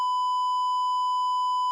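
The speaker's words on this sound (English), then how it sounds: "you always need like the beep button" A censor beep rings out as one steady, pure electronic tone, loud and unbroken for under two seconds, with nothing else audible.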